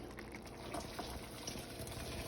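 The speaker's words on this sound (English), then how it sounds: "So we're straining the beans, but it's important to keep the remaining water" Cooked beans for Haitian rice and peas being strained with the cooking water kept, a steady, continuous watery rush and trickle at close range with no talking.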